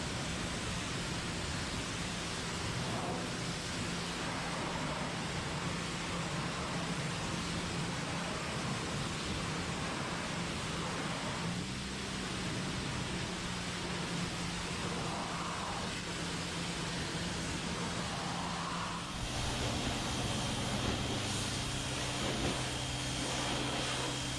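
A Bauer 2000 PSI electric pressure washer sprays a car's wheels, brakes and inner fender well, a constant loud hiss of water jet with motor hum, the tone shifting near the end, no talk.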